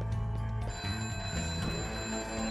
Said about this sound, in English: Phone call. Ring-a-ding-ding-ding-ding.